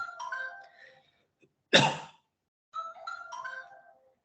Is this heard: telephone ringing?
yes